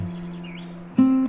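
Birds chirp at a riverside campsite in Tanay, Rizal, with a sustained insect-like trill running through and a louder, nearer call rising near the end.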